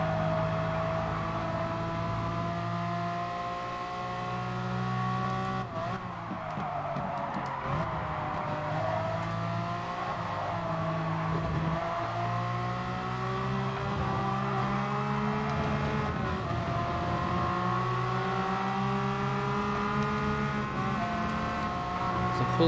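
Race car in Gran Turismo Sport held at full throttle, its engine droning loud with rising and falling pitch through gear shifts, under someone talking steadily.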